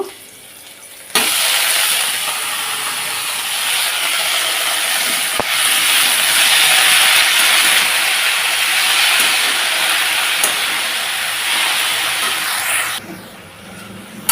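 Chopped bottle gourd leaves hit a hot pan with nigella seeds, setting off a loud, sustained hiss of sizzling that holds steady for over ten seconds before cutting off abruptly.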